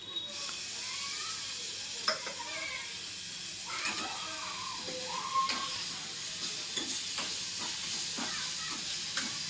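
Tomatoes go into a hot frying pan for a Marathi pea curry, giving a steady close sizzle with clinks and scrapes of stirring throughout.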